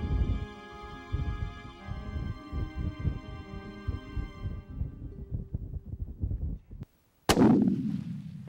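A single loud rifle shot cracks out during a mule deer hunt in open country, following several seconds of close rustling and handling noise and a short moment of quiet.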